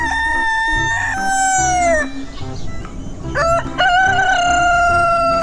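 Crowing rooster sound, likely played by a chicken toy figure: two drawn-out crows, each a bright wavering tone that rises and then falls, heard close and loud with a short gap between them.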